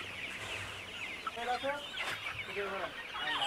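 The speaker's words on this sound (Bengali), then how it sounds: "আমাদের মুরগি ধরা চলতেছে" Coloured broiler chickens cluck and squawk nearby as they are caught at night on a poultry farm, with short agitated calls bunching together in the middle.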